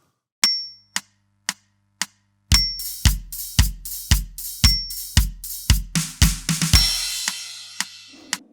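A drum fill of sparse ticks building into a run of snare hits that crashes into a cymbal, then the verse groove begins. The hits are close, even and played alone.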